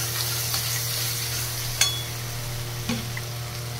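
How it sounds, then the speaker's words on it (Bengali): Ground coriander and turmeric sautéing in a pan, a steady low sizzle under a constant hum, with two sharp clanks of a spatula stirring the spices. "এই মশলাটাকে একটু কষাবো"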